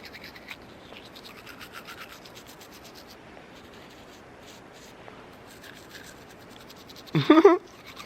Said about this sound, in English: just get my toothbrush, rub it in.